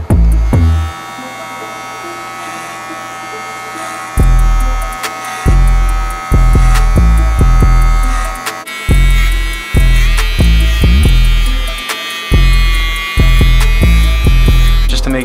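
Electric hair clipper fitted with a number two guard, lever fully open, cutting up the sides of a head in a self-cut fade: a loud, steady mechanical buzz that swells in repeated short strokes, with brief pauses between passes.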